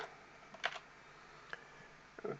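A few quiet keystrokes on a computer keyboard while entering a spreadsheet formula, spread out in small clusters against a low background hiss.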